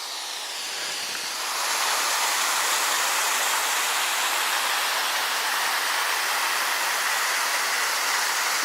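A waterfall in the Desolation Wilderness backcountry, a loud, continuous rushing roar that rises within the first couple of seconds and then holds steady and close, with no talking.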